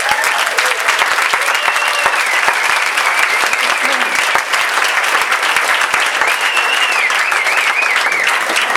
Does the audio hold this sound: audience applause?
yes